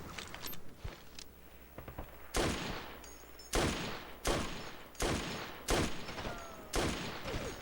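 Gunshots ring out in a retro video game, a series of sharp, loud blasts spaced about a second apart over a busy, noisy background.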